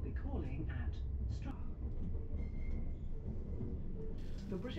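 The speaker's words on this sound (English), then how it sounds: "We depart London Liverpool Street around a minute late at 18:46." A Greater Anglia train pulls out of London Liverpool Street at evening departure, a low steady rumble with faint wheel squeals and clatter under a voice talking throughout.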